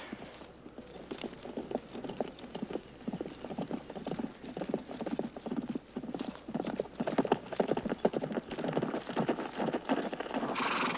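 Horses' hooves clip-clop steadily on the ground as riders approach, a continuous busy rhythm of several animals fairly close, with a brief whinny and faint voices underneath.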